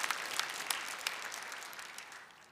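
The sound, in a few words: applause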